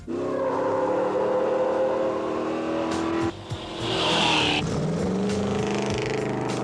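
A pickup-based off-road truck pulls hard down a quarter-mile acceleration course at the 1998 Top Truck Challenge. A loud, sustained engine roar climbs in pitch, breaks briefly around a gear change, then resumes with a raspier, higher note, with no voices.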